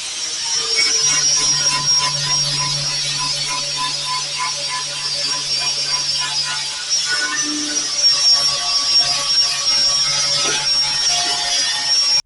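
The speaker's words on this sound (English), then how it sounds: "I can actually just run the grinder down here and just bend it over slowly all the way along." An angle grinder works the rusted spare wheel well metal of a Holden Torana UC, giving a steady, continuous whine at an even level with no breaks and no talk.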